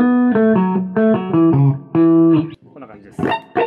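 Electric guitar played clean with a BOSS VO-1 vocoder pedal switched to bypass: several strummed chords and notes ring out clearly one after another, with short gaps and a brief higher flourish at the end.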